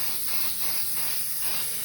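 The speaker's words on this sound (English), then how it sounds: "you want to spray your hairspray over the entire frame and give it a really good thick coat" Hairspray from an aerosol can sprayed over a thrift-store picture frame, a steady close hiss lasting about two seconds with no talking.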